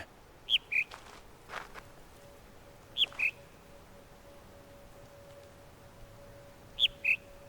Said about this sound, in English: A speaker that makes bird noises.